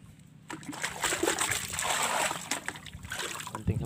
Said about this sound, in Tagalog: Lagyan natin ng konting dagat.